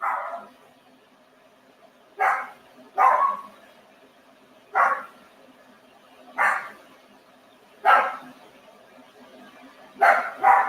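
A dog named Milo barks seven times at uneven intervals, some of them in quick pairs, loud and close indoors, with no talking between the barks.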